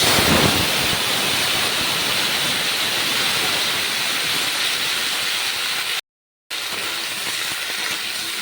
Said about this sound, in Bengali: এবার কেটে রাখা টমেটোগুলো ঢেলে দেবো